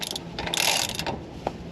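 A ratchet tightens a steering stabilizer bolt, giving a brief run of close, sharp metallic clicks that clatter quickly in a burst and then fall quiet.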